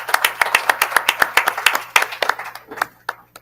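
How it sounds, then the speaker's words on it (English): Applause from a small audience at a Southern University Board of Supervisors meeting welcoming new board member Dana Bailey: distinct, fairly close hand claps in an uneven burst that thins out and fades to a few scattered claps. "Let's give her a round of applause"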